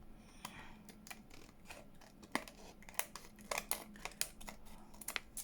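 Scissors snip through paper while embellishments are being made for a junk journal: a run of sharp, close, irregular snips, sparse at first and then quicker and louder, with faint rustling between them.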